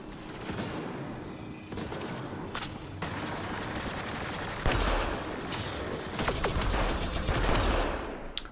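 Gunfire in a shooter video game rattles in dense rapid bursts of sharp shots, including pistol fire, layered with heavier booms and echoing reports; loud and continuous, with no talking.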